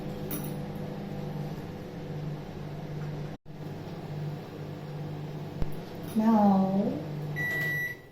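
A microwave oven heating chilli idli gives a steady low electric hum with a faint rattle, broken by a brief click, then rises in pitch and loudness near the end; a voice speaks briefly over it.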